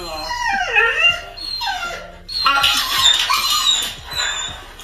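A dog whimpers and whines in high, wavering squeaks and moans, several cries rising and falling close by with short pauses between them.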